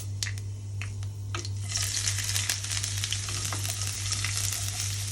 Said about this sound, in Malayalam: ഞാനിപ്പോൾ ഇഞ്ചി ഇടുവാണേ